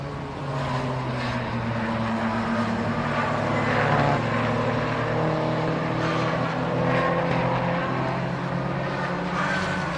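Britcar Trophy race cars at Silverstone roar past on track, a loud sustained engine drone that swells and fades as several cars go by, with no talk over it.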